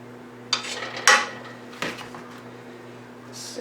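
A small chopped onion drops into a pan with clattering knocks of cookware and utensils, a few sharp clinks and scrapes spaced over a few seconds in a quiet kitchen, with a steady appliance hum underneath.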